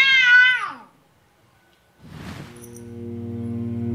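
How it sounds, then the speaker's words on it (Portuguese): A cat in the game Déraciné gives a short, high descending meow up close, followed by a pause and then a sustained low tonal drone. "Gatinho! Ih, esse gato tá olhando pra mim."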